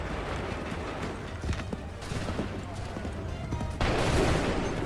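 Musket volleys and scattered gunfire during a battle in Assassin's Creed III, dense crackling shots with a louder burst near the end, under shouted commands and game noise.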